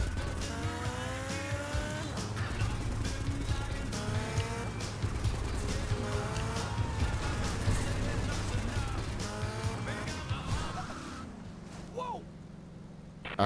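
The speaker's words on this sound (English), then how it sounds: "I hate this motorcycle." Engine whine of a motorcycle ridden in GTA Vice City, a steady loud motor drone with rising gear sweeps and tire screeches over roughly eleven seconds, then dropping away to quieter game sounds.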